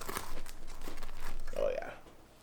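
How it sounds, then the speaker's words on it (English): A knife or cutter works through a heavy Detroit-style pizza into big slices, making a close, crisp crunching and crinkling scrape that swells and fades over about two seconds. "All right, let's cut this open. We're gonna do nice big slices."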